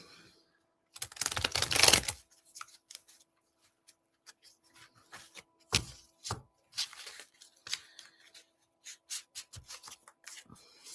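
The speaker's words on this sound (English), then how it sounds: "I'm going to shuffle this one more time." A deck of playing cards being shuffled in one dense riffling burst of around a second, followed by scattered lighter card taps and flicks at close range, with no talk.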